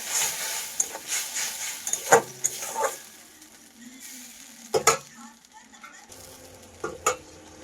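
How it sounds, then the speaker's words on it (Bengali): Tomato with a little ginger and garlic frying in light oil while a utensil scrapes and stirs the pan, giving irregular clinks and scrapes over a soft, steady sizzle at close range. "হালকা তেলে এটা নাড়াচাড়া করবো।"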